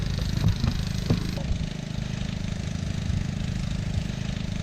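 A tractor engine, out mowing grass, runs at a steady idle with a low, continuous rumbling drone at moderate distance and a few faint knocks early on.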